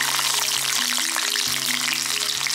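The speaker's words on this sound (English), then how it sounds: "Fry the onions until they become light brown in color." Shallots (sambar onions) frying in about three tablespoons of hot oil in a kadai: a loud, continuous close sizzle with crackling spatter and a few steady hum tones underneath, no voices.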